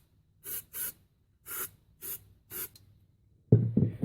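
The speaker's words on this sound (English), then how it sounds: "you're gonna want to take some hairspray and just spray a little bit into the grip" Hairspray is squirted into a bicycle handle grip in five short, sharp spray bursts at an uneven rhythm, close up against silence, followed by a louder clunk of handling.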